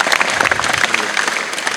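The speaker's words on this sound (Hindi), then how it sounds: "बजवाएं जोरदार तालियां छोटे पहलवान के लिए।" A crowd claps loudly for a young wrestler at a Haryana wrestling gathering, dense, vigorous applause filling the whole stretch close to the listener, with some voices mixed in.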